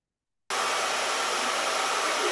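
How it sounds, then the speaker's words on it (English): A hair dryer blasts continuously at close range after a brief silent start, a loud, steady broadband whoosh with no other sound over it. "But the hair dryer is on and you can still hear me as though there is no hair dryer on."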